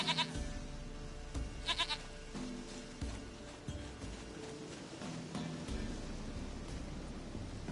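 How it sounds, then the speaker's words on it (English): A goat in The Witcher 3 bleats several times in short wavering bursts, fairly close, over a soft background hiss, with no talking. "Goat of mine, dearest, sweetest goat."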